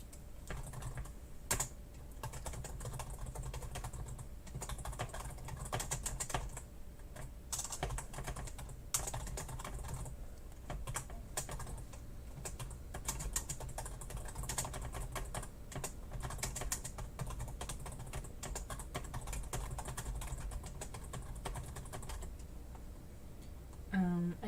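Steady, fast typing on a computer keyboard, with a dense run of close clacking keystrokes and short pauses that continues throughout.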